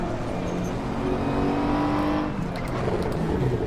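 Ferrari race car in the Assetto Corsa racing game, braking into a corner on a LEGO-themed track, with a loud continuous engine note shifting down in pitch as it slows, dense and unbroken, with no talk over it.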